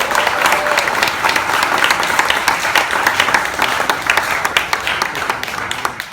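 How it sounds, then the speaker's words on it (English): Dense applause from a lecture audience at a Long Now talk, steady and sustained throughout with many overlapping claps, fairly loud and close. "Let's have a big round of applause for Rose."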